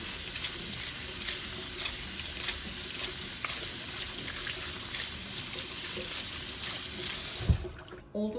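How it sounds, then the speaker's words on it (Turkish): Plenty of cold water running from a tap over boiled potatoes in a kitchen strainer, a steady close splashing rush that continues unbroken before a brief knock and stop at the end. "Haşlanmaya devam etmemesi için süzgeci aldım. Üzerine bol su gezdiriyorum."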